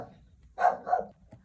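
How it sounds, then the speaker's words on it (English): A dog barks twice in quick succession indoors, two close, moderately loud woofs with a faint quieter yelp after them. "The dog has decided to stop barking."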